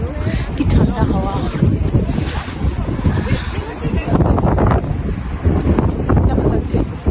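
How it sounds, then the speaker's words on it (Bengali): Cold wind in the Scottish Highlands at Glencoe buffets the microphone in loud gusty rumbles, with people talking close by over it. "কি ঠান্ডা হাওয়া,"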